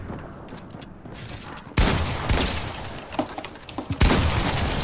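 Gunfire in Fortnite rings out in sharp bursts, with loud cracks and a couple of sudden booming shots over a steady in-game background and no talk.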